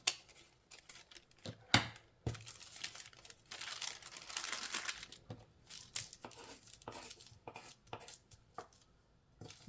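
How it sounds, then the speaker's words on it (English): Scissors cut away excess paper from a folded pleat in a sewing pattern for a cushion cover, giving a series of sharp, irregular snips and crinkles up close in a quiet room. "Cut off excess paper while the pleat is folded."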